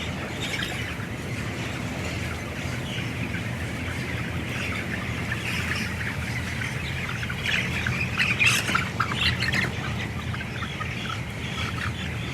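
A dense, continuous wash of chirping fills the space, tens of thousands of broiler chicks peeping together in a poultry house in a steady, unbroken chorus.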